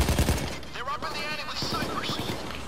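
Rapid bursts of gunfire from the Payday 2 bank heist video game rattle through the clip, with a voice talking over the shooting.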